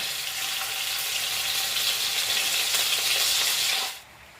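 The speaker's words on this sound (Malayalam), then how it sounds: "ഒരു രണ്ട് പ്രാവശ്യമായിട്ട് നമുക്ക് ഒന്ന് വറുത്തെടുക്കാം കേട്ടോ" Afghani chicken pieces frying in hot oil over high heat make a loud, steady, hissing sizzle heard up close, with no talking, until the sound drops away abruptly near the end.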